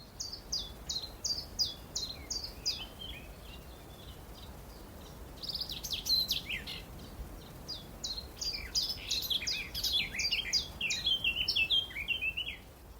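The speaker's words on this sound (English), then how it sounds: "I stopped to record a garden warbler singing from about 4 metres away." A garden warbler sings about four metres away at RSPB Minsmere, rapid bursts of bright warbling phrases repeating in quick succession, clear and fairly close over faint background.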